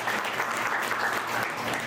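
Dense, steady applause from an audience at a school alumni reunion of a 1995 SSC batch, a continuous wash of many hands clapping without a break.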